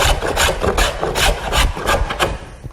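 A coarse hand tool rasps back and forth across a corner in steady, repeated strokes, about ten scraping passes, close and fairly loud with no voices.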